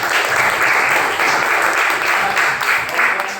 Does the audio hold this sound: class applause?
yes